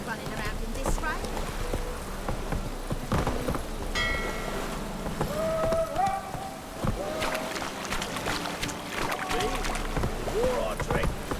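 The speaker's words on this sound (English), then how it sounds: "Must be mad running around in this rain." Steady rain hisses across the scene in the video game The Witcher 3, a continuous wash of noise that runs the whole time under in-game voices and scattered footsteps and movement.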